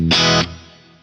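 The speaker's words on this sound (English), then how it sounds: "let's hear the clean here without any low cut at all" A clean electric guitar tone through a Fractal amp modeler with no low cut: one bright strummed chord that rings for about a third of a second, then decays quickly, loud and alone.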